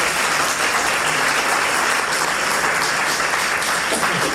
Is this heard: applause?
yes